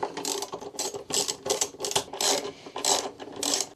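A ratchet clicks in quick repeated strokes while 12mm bolts are snugged on a SHAD SH23 pannier fitting, close and loud in a steady back-and-forth rhythm with no talk.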